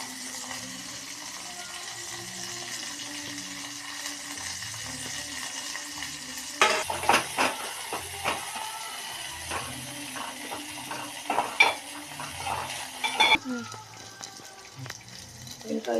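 Curry leaves, fenugreek and coriander hit hot oil in a home kitchen pan, giving a sudden bright sizzle and crackle with scraping stirs, fading back to a low simmer, amid faint background sounds.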